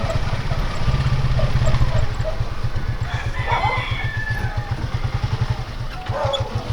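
A rooster crows among clucking chickens over a steady rhythmic engine-like rumble, with faint voices in the background.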